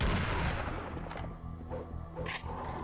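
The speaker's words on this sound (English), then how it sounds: "so it's basically a double-barrel shotgun" A double-barrel coach gun firing in the PC video game Serious Sam: a couple of sharp blasts rise briefly out of a dense, noisy wash of game sound.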